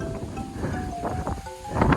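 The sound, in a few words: wind blowing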